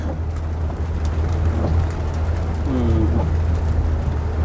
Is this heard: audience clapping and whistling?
no